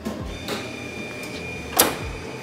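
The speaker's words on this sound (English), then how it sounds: "So now that the printer is turning on" A print shop printer powers on with a steady mechanical hum, soft whirring tones and a few clicks, plus one brief louder rattle near the end.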